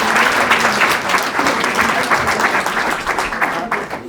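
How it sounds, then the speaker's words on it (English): An audience at an annual members meeting of a sustainability group applauds the panelists, a dense, steady round of clapping lasting several seconds with no talk over it. "big round of applause for the panelists"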